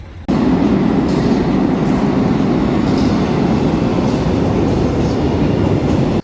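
A metro train heading to the airport rumbles steadily from inside the carriage, a low continuous roar with faint rattling that holds evenly throughout.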